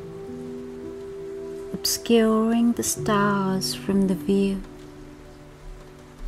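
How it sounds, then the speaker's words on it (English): Raindrops tap softly on a window pane of a boathouse on a dark rainy night, a faint, steady patter beneath a calm voice speaking throughout. "drops of the rain gently tapping on the window pane"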